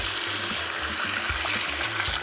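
Sushi rice being washed by hand in cold water, gentle continuous sloshing and swirling with soft rhythmic stirring pulses, close and fairly loud, no voices.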